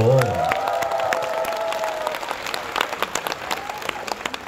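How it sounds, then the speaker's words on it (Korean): A concert audience at a small venue in Ulsan gives scattered, uneven applause after a singer's voice fades out at the start, the claps coming as distinct close hits. "우리 박수 한번 다시 주시죠."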